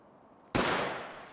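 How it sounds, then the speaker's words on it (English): A sudden loud burst of gunfire in GTA erupts after a quiet lead-in, a dense rapid volley of shots that rings out and decays over about a second. "That was only 3 shots."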